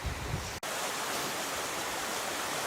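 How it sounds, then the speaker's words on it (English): Steady, broad rushing of falling water, a constant roar heard from nearby, with a brief cut-out early on; a waterfall in Cardingmill Valley by the Long Mynd running full. "now that actually looks like a proper waterfall, much better than the trickle it's been in recent months"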